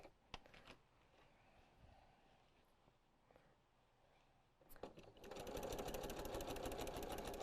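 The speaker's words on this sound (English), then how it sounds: "some of these demos where we're actually doing some sewing with it" A sewing machine stitching a quilt-as-you-go rag quilt starts after a few scattered taps and handling noises, then settles into a steady, fast mechanical whir that runs continuously to the end.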